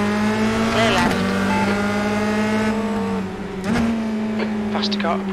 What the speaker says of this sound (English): Faster car approaching.